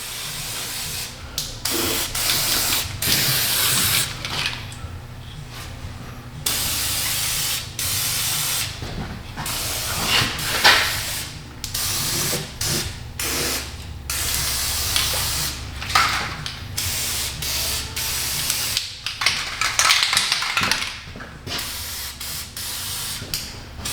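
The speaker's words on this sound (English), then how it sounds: "I just wanted to spray all the spots where the the bolts go up through and where they mate together." Repeated bursts of aerosol spray hissing close by onto a rusted Toyota Prius underbody around the bolt spots, short blasts separated by brief pauses, over a low steady background hum.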